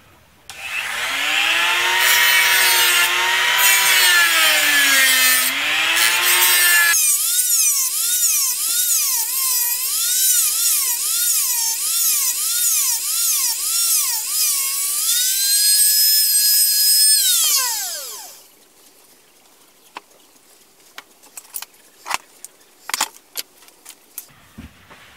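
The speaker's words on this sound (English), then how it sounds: "Now I'm going to cut these slits for the belt loop." A rotary cutting tool whines as it cuts belt loop slits into a PVC knife sheath. It runs loud and close as a sustained high buzz whose pitch wavers with the load, then it winds down, followed by a few light clicks and taps.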